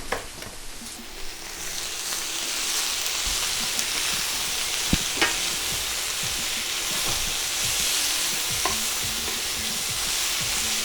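Fajita vegetables for a chicken fajita salad stirred in a hot pan, a continuous loud sizzle with repeated scrapes and clatters of the spoon throughout.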